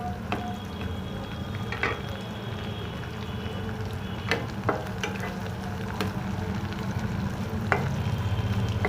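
Paneer cubes fry in oil while a spatula separates them, a moderate steady sizzle broken by sharp scraping clicks of the metal spatula against the pan.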